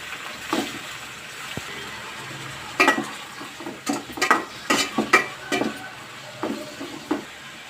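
Chicken frying in a pan with oil, onion, green chili and tomato, a low sizzle broken by a series of irregular scraping stirs and clatters of a ladle against the pan.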